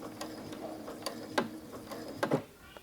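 A sewing machine back stitches a few stitches through the binding of a quilted mug rug, giving short mechanical bursts and clicks at close range with brief pauses between them.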